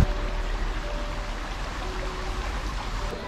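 Waterfall at Padley Gorge in England, a steady broadband rush of falling water that holds constant and fairly loud throughout, with no voices.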